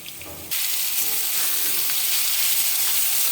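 Ground spices with ginger paste, cumin, chili powder, turmeric, salt, sugar and tomato hit a hot pan and erupt into a loud, steady sizzle that continues close up after a quieter start, with no voices.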